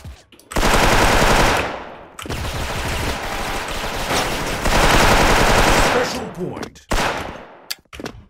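Rapid automatic gunfire from the online shooter game Special Force, loud sustained bursts with short gaps between them, running almost nonstop over several seconds.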